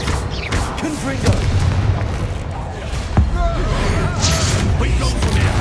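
A Confringo spell blast in Hogwarts Legacy bursts with a booming, explosive thump amid a busy, loud battle mix, with other impacts and clatter around it.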